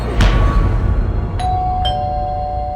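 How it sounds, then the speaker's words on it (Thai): Two bright electronic doorbell chimes ring out over a loud low rumbling background, each tone lingering and overlapping the next. "เสียงกริ่งดังขึ้นอีกครั้ง"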